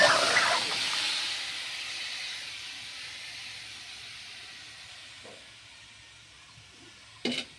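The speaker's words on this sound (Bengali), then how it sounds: "এখন ওই একই কড়াইতে আমগুলো ঢেলে দেবো" Mangoes are poured into a hot wok already used for frying panch phoron, giving a loud burst of hissing sizzle that slowly fades to a soft simmer, with a light clink near the end.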